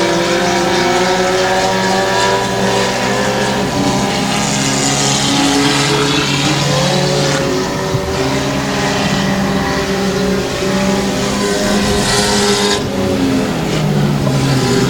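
Race cars roar around a dirt track at the 2018 Longhorn Classic, engines loud and close in a continuous layered drone that swells and dips as cars pass, with no talk over it.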